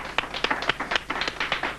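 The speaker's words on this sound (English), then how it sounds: "a round of applause for that" A studio audience on a 1993 MTV music talk show breaks into brief, scattered clapping, a quick run of individual hand claps close up and fairly loud.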